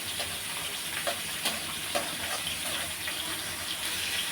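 Fish frying in oil in a pan on a stove, with onions browning alongside, gives a steady broadband sizzle with a few soft clicks and pops, close and continuous, with no talking.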